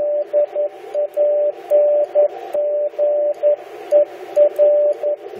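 Amateur radio Morse code sidetones beep in a steady single pitch, keyed in short dots and longer dashes with a regular rhythm, loud and clear over faint hiss.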